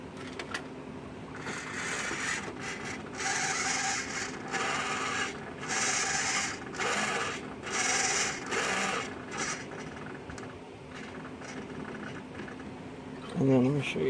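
A servo driving the gun elevation and recoil on a 1/6 scale Dragon Sherman tank model makes repeated short whirring buzzes in a regular on-off rhythm, close and fairly quiet, ending with a brief louder rattle.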